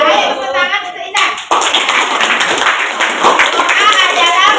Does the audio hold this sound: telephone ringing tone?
no